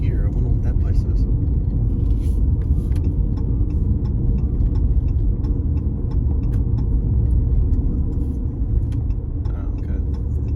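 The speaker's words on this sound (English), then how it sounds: "The car's coming my way." Steady road rumble from a car driving through a downtown city street in Durham, North Carolina, a continuous close engine and tyre drone lasting the whole stretch with faint ticking above it.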